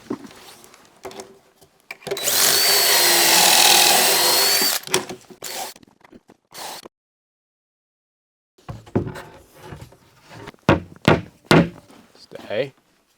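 A power drill drives pocket screws through 3/4 inch plywood backing around a wall's perimeter, with one long loud whirring burst followed by short bursts and thunks, while a person talks between runs.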